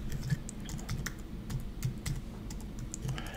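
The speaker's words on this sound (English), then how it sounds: "just type in sample page" Soft, rapid keystrokes on a computer keyboard click in an irregular run, close and fairly quiet over a low background hum.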